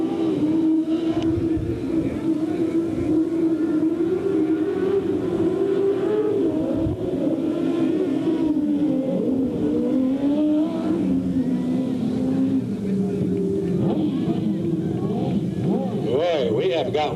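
Race cars roar around the slick oval at Delta Speedway, a continuous loud engine drone rising and falling as they accelerate, with an announcer talking over it throughout.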